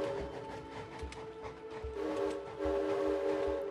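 A train rolls along a track in the video game It Takes Two, a steady rumble with repeating low thumps of the wheels and a sustained tonal hum, growing slightly louder toward the end.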